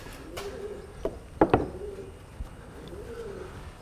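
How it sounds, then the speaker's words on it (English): Pigeons coo softly in a low, repeated rolling call from somewhere overhead at an outdoor bow-building workspace, with a few sharp knocks and clicks of woodworking mixed in. "Those pigeons up there are in love."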